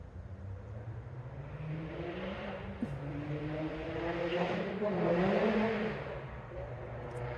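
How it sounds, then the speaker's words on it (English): Loud vehicle racing along a road in North Carolina as if drag racing, its engine rising to a revving peak as it passes nearby, then fading, with no talk. "somebody has a very loud vehicle that just drove by, like they're drag racing down the road"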